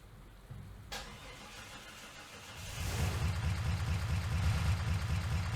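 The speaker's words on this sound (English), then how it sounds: "And then I just need to start the engine." Car engine in the A New Beginning video game cranks with a sharp click near the start, then catches around three seconds and settles into a loud, steady idle rumble.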